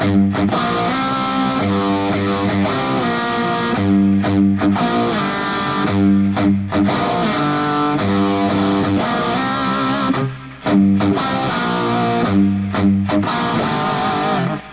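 A distorted electric guitar plays a chugging riff with slides, steady and loud throughout, with a brief dip near the end.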